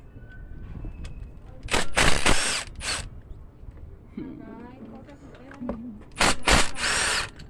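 Power socket tool spinning out bracket bolts on a Honda Fit transmission during a clutch job, in two loud whirring bursts separated by quieter workshop sounds, with people talking around them.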